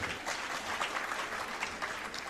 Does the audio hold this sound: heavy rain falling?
no